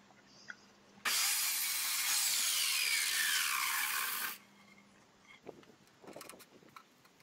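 Pallet skid wood is cut to size with a power saw, a single loud, bright, sustained cut of about three seconds, followed by quieter handling clatter nearby.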